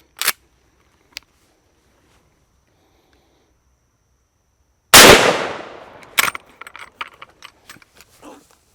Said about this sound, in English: I'm going to shoot it through my Henry carbine